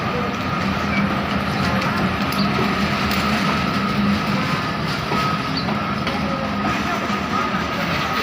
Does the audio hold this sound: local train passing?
yes